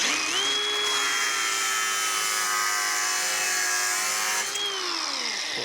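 A power tool makes a straight cut through car trim on a 1957 Chevrolet: one steady, loud, high whine that holds for about five seconds with a rising start and falling finish, with no talk.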